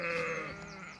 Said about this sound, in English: we've got all the ewes and lambs bunched up here together